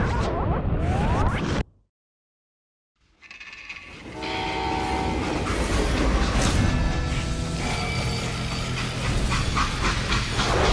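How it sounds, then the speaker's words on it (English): A freight train rumbles and clatters in the Western shooter Call of Juarez: Gunslinger, loud and continuous after a brief moment of silence, with a steady metallic rolling din and tonal horn-like bands. "How'd they stop this train in the first place?"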